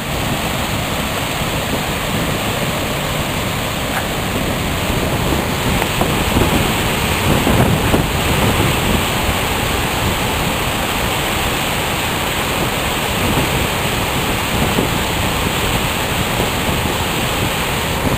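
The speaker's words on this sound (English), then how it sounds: "Oh, is that water moving?" A steady, loud roar of the flooded Saranac River rushing continuously without a break, close and overwhelming.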